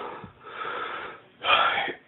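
Wheezing breaths from a person, likely imitated while phoning in sick to work: two raspy, drawn-out breaths, the second louder and harsher, close to the microphone with no other talk.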